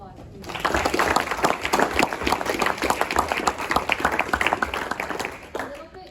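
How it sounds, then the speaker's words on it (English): A crowd at a blockchain cohort closing ceremony bursts into lively applause that starts quickly, holds dense and strong for several seconds, then tapers off at the end. "Can we get a round of applause, please?"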